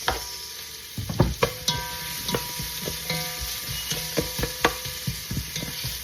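Onion and ginger sizzle steadily in a frying pan for a catfish dish, while a utensil stirs with irregular close clinks and scrapes against the pan; no voices.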